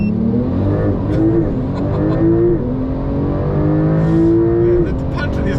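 A Porsche on a quarter-mile launch-control run, the engine note climbing in rising sweeps through several quick gear changes, loud and close throughout.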